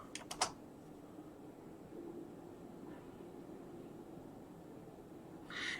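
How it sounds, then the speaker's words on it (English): A few quick clicks of a computer keyboard, including an Enter key press, sound close and crisp near the start, followed by a steady hum of background noise. "So I'm going to click enter."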